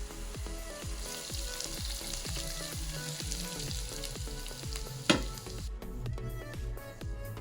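Hot tempering is poured into a pan of mixed vegetables and sizzles loudly and steadily, with rhythmic scraping stirs throughout and one sharp crackling burst near the end.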